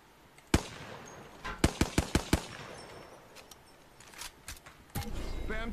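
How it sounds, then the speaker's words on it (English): A laser rifle fires in a video game as a burst of sharp, rapid shots, followed by a few scattered bangs and a noisy rush near the end, with game ambience beneath. "he's gonna use the laser rifle"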